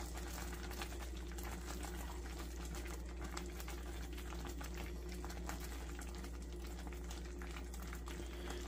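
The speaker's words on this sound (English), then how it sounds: "we're cooking the moisture out of this mix, because water boils at 212 degrees" A Christmas candy mixture boils hard in a pot as it climbs past 200 degrees, a constant dense bubbling and popping that stays close, steady and unbroken, with no voices.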